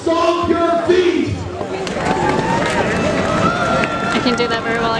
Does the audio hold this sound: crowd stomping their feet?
yes